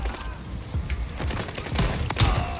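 Rapid gunfire from Call of Duty: Vanguard in a hardcore hardpoint match, a dense run of sharp shots and bursts at moderate level with no talk.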